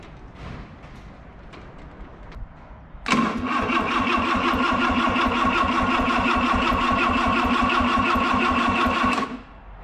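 A freshly assembled 1987 Jeep engine sits quiet, then bursts into loud, steady cranking on its first start attempt, a rapid churning beat lasting about six seconds before cutting off.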